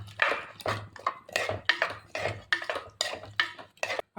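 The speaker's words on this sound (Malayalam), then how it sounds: "ഒന്ന് ഇളക്കാം നമുക്ക്." A spoon stirring a drumstick and raw mango curry in a pot makes close, repeated scraping clinks in a steady rhythm, about a dozen strokes, with no talking.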